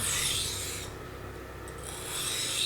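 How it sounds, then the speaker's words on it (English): A knife scrapes in slow, rasping cutting strokes across a Kuromaku Blue/Black 320 grit water stone to remove a burr. Two close, steady strokes are separated by a brief quieter pause. "Cutting strokes only now. Just to eliminate as much of that burr as I can."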